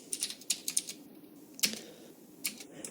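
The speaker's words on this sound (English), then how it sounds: "I can type greeting equals hello in double quotes" Python code is typed on a computer keyboard: a quick run of close, crisp key clicks with short pauses and one sharper keystroke in the middle.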